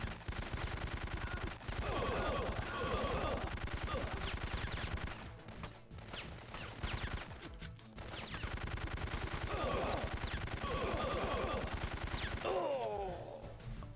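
Repeated gunfire crackles in bursts through a shootout in the Syphon Filter video game, volleys spread across the stretch with a short lull in the middle, set against a steady game soundtrack; no one talks.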